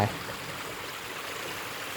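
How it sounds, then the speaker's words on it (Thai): A stream runs steadily at a grassy campsite in Kanchanaburi, making a continuous soft, rushing wash of water with no other sounds. "เนี่ยเป็นน้ำไหล"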